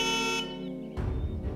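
A cartoon bus sounds its horn in a sustained tonal honk that breaks off into a noisy rumbling burst, short and fairly close.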